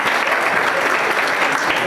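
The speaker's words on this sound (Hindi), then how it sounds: "ताली बजा दो।" Classroom quiz applause after a correct answer, a dense burst of many hands clapping together, loud and close, lasting a couple of seconds without a break.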